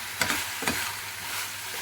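Chili powder and sambar powder being stirred into a pan for tomato rice bath, with a light steady sizzle and two short scraping strokes of the spoon early on, close and without speech.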